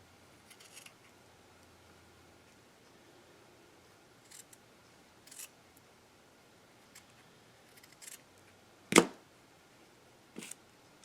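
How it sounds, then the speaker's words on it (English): Scissors trim the edges of a no-sew craft pouch in a few quiet, scattered snips, with one sharp louder cut near the end, up close in an otherwise hushed room. "And again, I'm seeing little edges that I want to trim."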